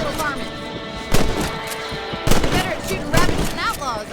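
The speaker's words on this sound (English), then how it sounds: "Get your rifle out. It's about time these little thieves met their maker." Rifle gunshots in Red Dead Redemption, several sharp loud reports spaced about a second apart, each with a short echoing tail, over a steady game background.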